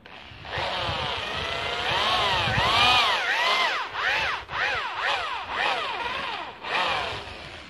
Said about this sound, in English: on this side I'm going to put a rough line of the angle that I want to go in with the drill bit